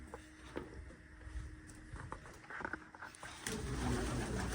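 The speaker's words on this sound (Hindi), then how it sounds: "कबूतर डर गए, कबूतर डर गए।" Pigeons coo nearby in a bird room, then a sudden flurry of fluttering wings and scuffling breaks out as the birds take fright.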